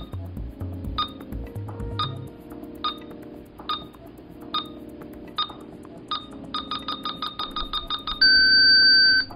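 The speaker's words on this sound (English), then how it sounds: "The backpack will emit a distinct tone that will become more frequent as the inductor reaches the correct" Isoweld backpack welding system beeping as its inductor is guided over a plate: a distinct repeating tone, sparse at first, then speeding into rapid beeps and ending in a solid steady tone, over a low background hum.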